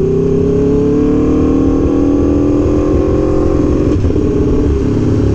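An Aprilia Tuono V4 1100 Factory motorcycle rides slowly downhill in first gear, its engine holding a steady, close, continuous drone at low revs without any talking.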